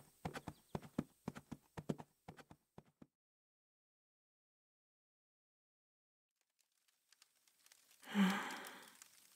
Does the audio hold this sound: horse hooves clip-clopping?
yes